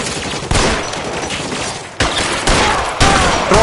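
Dense gunfire in the crime video game L.A. Noire during a rooftop shootout, with sustained, overlapping bursts of shots that swell in loudness several times and play without talk.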